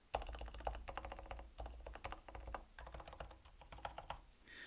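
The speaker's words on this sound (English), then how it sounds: "I'm just mashing random keys." Fast, uneven typing on a computer keyboard fitted with thin silencing rings, clustered clacks in quick bursts with short pauses between them, close and fairly quiet with no speech.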